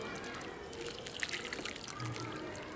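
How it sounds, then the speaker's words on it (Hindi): Water poured gently onto a soil and cocopeat mix in a plastic flower pot, a faint steady trickle and soft splashing, quiet and close, with no talking. "पानी देंगे।"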